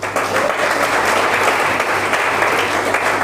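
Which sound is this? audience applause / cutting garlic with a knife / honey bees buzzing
audience applause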